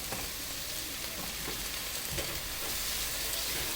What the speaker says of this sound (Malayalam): അതും കൂടി നല്ല രീതിയിൽ മിക്സ് ചെയ്തതിന് ശേഷം നമുക്കൊന്ന് വഴറ്റിയെടുക്കാം.